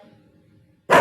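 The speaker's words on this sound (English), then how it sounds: "where's that bark coming from?" A dog lets out a single sharp, loud bark at the very end, after a stretch of faint low murmuring.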